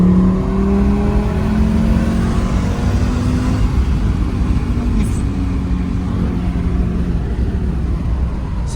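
A 340-horsepower car revs with its exhaust note rising and falling in long sweeping pitch glides, loud and close, under a continuous rumble, while voices can be heard faintly in the background.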